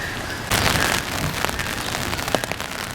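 Light rain falls outdoors, a steady close patter of drops on surfaces, with a sudden louder wash of rain and scattered sharper drips, heard alone without talk.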